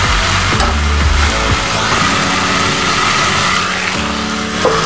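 Loud, dense frying of spices with raw turmeric in a pan, a continuous close sizzle with intermittent scraping knocks as the mixture is stirred and sautéed.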